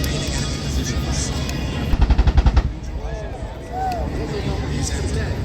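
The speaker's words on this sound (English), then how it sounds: "using their rockets and guns to clear the remaining enemy positions" Helicopters firing simulated rockets and guns during an airshow assault demonstration at MCAS Miramar: a rapid burst of about eight sharp reports mid-clip over steady distant rotor and crowd noise, with an announcer's voice running throughout.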